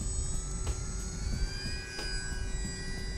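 An E-flite P-39 Airacobra 1.2m RC warbird plane taxis on a grass field before takeoff. Its electric motor gives a steady, high whine that rises slightly in pitch, with two brief clicks.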